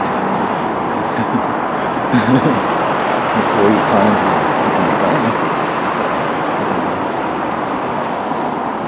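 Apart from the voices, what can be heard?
cars passing on a Tokyo street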